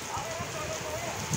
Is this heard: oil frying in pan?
no